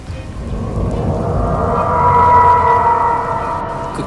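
A thunder sound effect for a horror story rolls in as a deep rumble that swells to a peak and fades, under a droning, eerie tonal layer.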